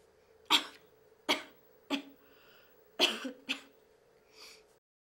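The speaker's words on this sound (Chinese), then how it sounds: "你怎么在咳嗽？" Several short, sharp coughs or throat-clearing bursts from one person, spaced irregularly over a few seconds, close and fairly loud with quiet background between them.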